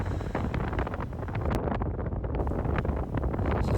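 Strong outdoor wind on the Cornish coast buffets the microphone in a constant loud roaring rumble with gusty fluctuations, no voices present.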